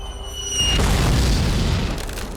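A deep, heavy artillery explosion booms in from a distance, a rumbling low blast that swells after half a second and lingers, with no speech over it.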